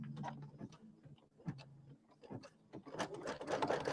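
A home embroidery machine stitches out the placement line for a small red appliqué, a quick rhythmic mechanical chatter that pauses briefly and then picks up again, fairly close and with no voices.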